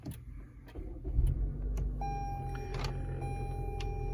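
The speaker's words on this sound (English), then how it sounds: "Now, I'm going to turn it on here. It does have the push button start right there." A 2023 Toyota RAV4 XLE engine cranks and catches after a push-button start, then settles into a steady idle hum with a faint high electronic tone.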